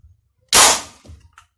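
A single sharp, close suppressed 12 mm air rifle shot with a suppressed crack, followed by a brief faint thud and a small metallic tick.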